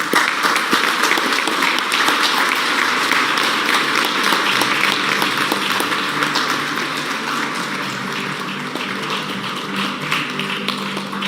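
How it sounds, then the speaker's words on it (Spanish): Audience applause at a commemorative event for the International Day of Indigenous Peoples: sustained, dense clapping from a crowd that holds steady for the whole stretch, easing only slightly toward the end, with no voices over it. "Brindemos un aplauso, por favor."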